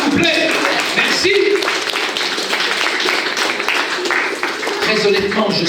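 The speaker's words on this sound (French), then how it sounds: "On peut les applaudir alors, s'il vous plaît." A packed comedy-show audience in France claps steadily for several seconds, a dense, even wash of applause mixed with scattered voices and chatter.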